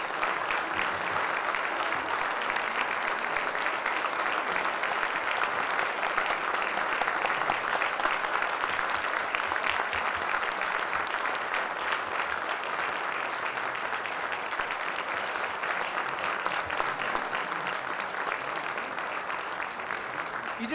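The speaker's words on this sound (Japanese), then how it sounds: "皆さん拍手でお送りください。" Applause from an audience at a Ukrainian bandura concert held at the Kanagawa Prefectural Assembly sees a performer off the stage. The clapping is steady, dense and moderately loud, with no pause and no voices.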